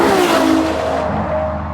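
A Ferrari LaFerrari hybrid supercar with a naturally aspirated V12 engine revs loudly and close by, a dense, sustained engine roar with a falling pitch sweep, heard alone with no talk.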